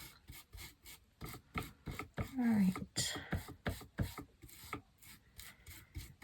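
A diamond painting sealing brush bouncing up and down on a small glass mat, producing a quick series of sharp tapping and rubbing clicks in an irregular rhythm, with a short spoken word partway through.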